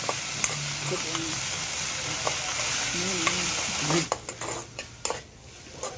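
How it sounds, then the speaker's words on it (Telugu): Cucumber pieces fry in a pan and are stirred with a ladle, giving a steady sizzle with scraping strokes and a few sharp clanks of metal near the end. "ఇప్పుడు ఈ దోసకాయ ముక్క ఈ గడితోనే చక్కగా ఇట్లా బాగా వేపుకోవాలి."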